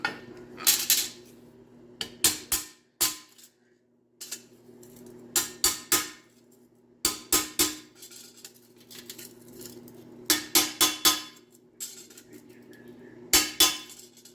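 Sharp metallic strikes ring out in quick clusters of two to four blows, separated by short pauses, clear and close with a faint steady hum underneath.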